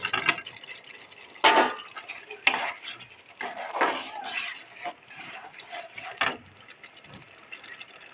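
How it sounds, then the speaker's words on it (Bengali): Potatoes are added to fried spice masala in a pan. The sound is a series of distinct metal scrapes, clatters and stirring knocks against the pan, close and fairly loud, with gaps between them. "এবার আমরা আলুটা দিয়ে দেবো।"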